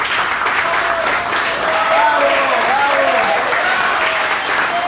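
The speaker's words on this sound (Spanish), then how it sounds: "¡Aplausos, por favor!" A crowd applauds loudly and continuously at a live show honoring a puppet creator, with voices cheering and calling out over the clapping.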